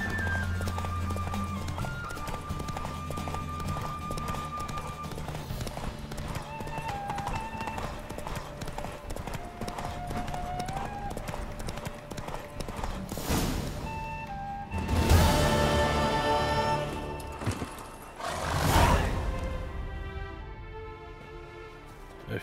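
A horse gallops in a race in The Witcher 3, rapid clip-clop hoofbeats running continuously over game music, with two louder crashing bursts late on.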